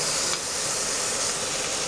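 Pork steak sears gently in a frying pan over moderate heat, giving a steady, close, broadband hiss with faint crackle throughout, no talking.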